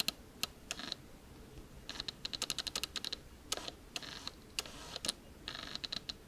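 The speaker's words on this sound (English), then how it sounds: "I warn you that the autofocus on this is kind of loud." Autofocus motor of a Sigma 17-50mm f2.8 lens on a Canon camera, faint rapid clicking and whirring bursts repeating in quick clusters, close and quiet with no talk.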